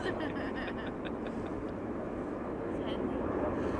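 An Aegean Airlines plane arriving from Athens at Amsterdam Schiphol Airport produces a broad, steady jet roar at moderate distance. A voice talks over it throughout.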